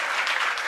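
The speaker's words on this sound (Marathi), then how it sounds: "एकदा सर्व माझ्या तरुण भावंडांसाठी जोरात टाळी वाजवायची" Audience clapping loudly at a Ganesh festival kirtan, a brief dense burst of applause with no voices over it.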